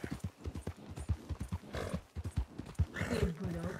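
Horse hooves clip-clop in the Red Dead roleplay video game, a rapid run of close hoof beats heard under ongoing talk from players.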